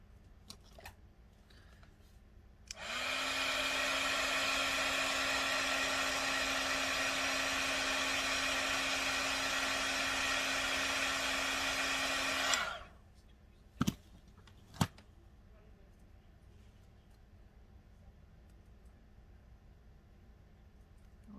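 A craft heat dryer blows air to dry a hydrangea flower junk journal tag, a steady whirring hiss that switches on, runs about ten seconds and cuts off, followed by a couple of sharp clicks in a quiet room.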